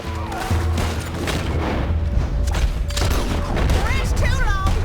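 A Gatling gun fires in the video game Red Dead Redemption 2, a dense rattling fusillade and booms blended with game music and tones, with a voice talking over the continuous loud battle din.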